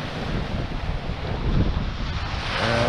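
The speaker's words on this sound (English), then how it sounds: "the wind's coming from west, sort of southwest at the moment" Gusty west-southwest coastal wind buffets the microphone in a steady rumbling roar with faint surf beneath, uneven swells of loudness, and no speech.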